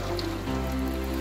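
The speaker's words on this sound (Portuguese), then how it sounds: "olha que chuva deliciosa que tá caindo aqui" Steady rain falls outside, a dense even hiss of drops close to the microphone, with a low rumble underneath throughout.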